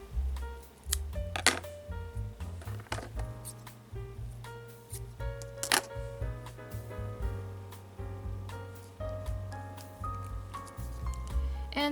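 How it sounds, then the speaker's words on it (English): Scissors snipping the end of a crochet cord while making DIY earrings, a few sharp close cuts among light handling noises over a steady low hum. "I will cut the end of this cord."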